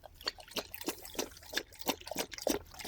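Dog lapping water from its bowl, a steady run of quick wet slurps at close range, even in rhythm, with no voices over it.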